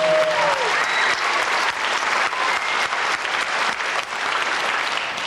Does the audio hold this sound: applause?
yes